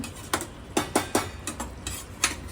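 Chicken biryani is mixed inside a covered pot, giving several distinct metallic clanks and scrapes at an uneven pace, close and fairly quiet, with no talking.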